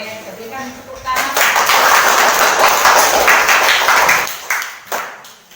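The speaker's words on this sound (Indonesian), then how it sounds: "kita berikan tepuk tangan" Classroom applause during a teaching practice session, a group clapping for several seconds after a presentation, with voices mixed in and the clapping fading out near the end.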